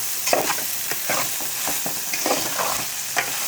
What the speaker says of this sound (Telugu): బెండకాయ ముక్కలు సాల్ట్ పట్టేలా చక్కగా కలుపుకోండి.